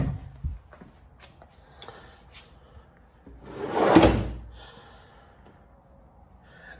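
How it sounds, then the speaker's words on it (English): A workbench drawer slides shut once with a single broad, moderately loud wooden rumble midway through, framed by quieter handling knocks and faint breathy noise in an otherwise hushed workshop. "It closes pretty well, but I want it all nice and tight, so there's no wriggle room in the drawers."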